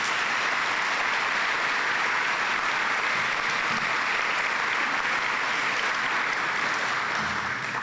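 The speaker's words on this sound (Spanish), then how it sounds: "un fuerte aplauso para recibirlo" A university lecture audience gives a loud, sustained round of applause to welcome a visiting speaker, a dense steady wash of clapping with no talk over it.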